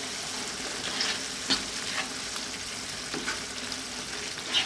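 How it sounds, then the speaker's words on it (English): Freshly grated Parmesan stirred into a tomato cream sauce in a pan gives a steady, close sizzle with a few soft scrapes of the spoon, and no voices. "Here I've got a nice handful of some freshly grated Parmesan. Gonna give that a mix."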